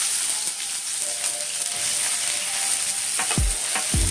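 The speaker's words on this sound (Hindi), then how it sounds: "आपको ऐड करना है इसमें अनियन।" Onions sizzling in hot oil with cardamom, cloves and cinnamon for an egg curry masala gravy; steady loud frying hiss with stirring scrapes toward the end, no speech.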